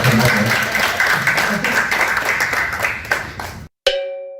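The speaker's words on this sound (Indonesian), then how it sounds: "Oke, tepuk tangan Pak." An audience claps in sustained, fairly loud applause that fades gradually and then cuts off, followed by a short bright chime.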